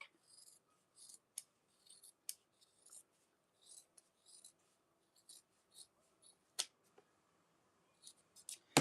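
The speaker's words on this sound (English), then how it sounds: "I always kind of cut those on an angle because it's like right at the zipper there" Scissors snip fabric for a cosmetic bag in a string of short, quiet, close cuts, irregular clusters of crisp snips separated by silence.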